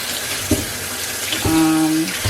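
A kitchen tap runs in short bursts over oranges being rinsed in a sink, with a brief splash, a longer stream of about half a second, then a final splash, all close.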